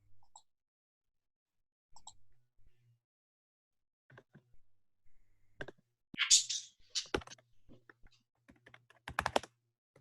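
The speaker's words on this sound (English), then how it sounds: "I hear it clicking, so somebody's typing." Computer keyboard typing and clicking during an online class, in scattered bursts of quick keystrokes that cluster densely late on, with gaps of near silence between them.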